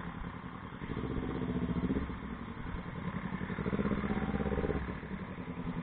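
Motorcycle with an open muffler runs steadily close by, a loud low rumbling idle with rhythmic throbbing that swells and eases in two slight revs, no talk over it.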